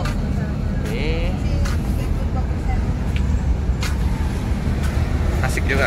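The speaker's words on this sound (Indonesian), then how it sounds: "Perjalanan jauh naik bus PMTO." Inside a PMTOH long-distance bus on the road, a steady rumbling engine and road roar with occasional knocks and faint rattles, while voices talk quietly under the noise.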